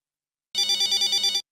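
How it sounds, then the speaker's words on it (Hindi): A telephone bell rings in one short burst of rapid trilling pulses, loud and close, starting abruptly after a brief silence and stopping cleanly under a second later. "फोन उठाइए।"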